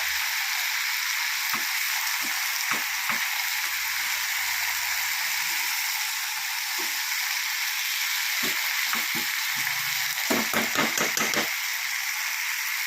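Sambar cheera greens sautéing in a frying pan give a steady, close sizzle throughout, broken by scattered clicks and scrapes of a stirring spoon against the pan.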